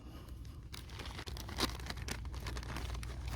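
Plastic bag crinkling and rustling up close, with irregular crackles and a sharper crunch partway through, no talking.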